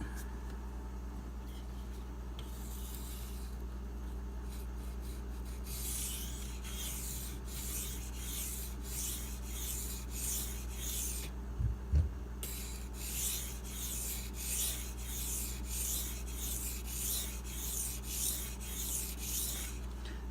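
A Benchmade APB knife is stroked across a Nubatama Ume 1K Extra Hard whetstone. After a quieter start, a long run of rhythmic, scratchy back-and-forth rasps plays close up over a low constant hum.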